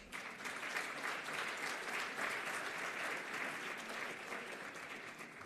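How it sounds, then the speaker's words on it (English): A summit audience gives a sustained round of applause, dense and even clapping from many hands throughout, moderately distant. "Shall we please give Mr. Johannes Michels a massive round of applause?"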